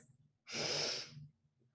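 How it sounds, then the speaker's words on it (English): A person breathes in through the nose once in a short, airy sniff lasting about a second, close and soft, with quiet stillness before and after. "you're like a little bunny rabbit sniffing the air 3 times, little pause in between"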